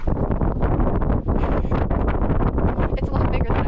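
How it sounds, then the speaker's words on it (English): Strong wind rushes out of the entrance of Wind Cave, buffeting the microphone with a loud, continuous roar that barely lets up from start to finish. "It's windy."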